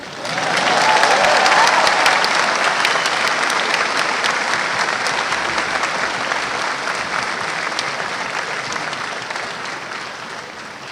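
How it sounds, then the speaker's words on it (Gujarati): An audience claps at a public event in Gujarat, a loud dense wave of applause that peaks early and then slowly tapers off over about eleven seconds, with no voices over it. "હસમુખભાઈ પટેલનું નામ બોલાય એટલે બધાને કેવી તાળીઓ પડે"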